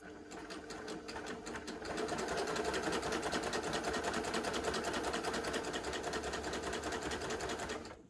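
Baby Lock Gloria combination sewing machine stitching, starting with a few slow, hand-wound stitches and then settling into a fast, even, close mechanical whir that runs steadily until an abrupt stop.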